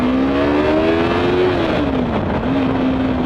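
A Yamaha YZF-R3 sport bike engine on its stock exhaust, ridden at the Thunder in the Valley 2015 rally, holds a loud, steady buzzing note that dips briefly and then climbs back up, with no talk.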